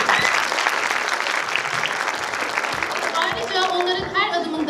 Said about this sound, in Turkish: çocuklarımıza kocaman bir alkış rica ediyorum